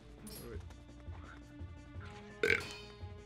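A character in Zelda: Twilight Princess HD gives a short burp, with a louder crash-like hit near the end. Faint game sounds and some voice sit underneath.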